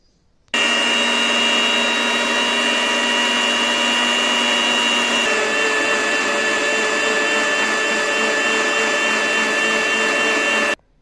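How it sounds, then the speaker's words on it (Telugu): A mixer grinder blends fruit with half a glass of water, a loud, steady high motor whine that starts abruptly, runs for about ten seconds with a slight shift midway, then stops. "ఇప్పుడు మిక్సీ పెట్టాం కదా"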